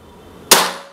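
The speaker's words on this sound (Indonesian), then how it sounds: "Kita coba kita paskan di tembakan yang kedua" Single sharp shot from a Predator Ataman Black Army PCP air rifle, a loud close crack that cuts through a quiet background and tails off over a fraction of a second.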